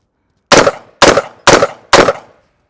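BA-15FC AR-style shotgun fired four times in quick succession until the bolt locks back, each loud sharp blast followed by a short decay.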